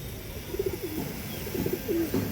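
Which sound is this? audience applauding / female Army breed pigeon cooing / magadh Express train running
female Army breed pigeon cooing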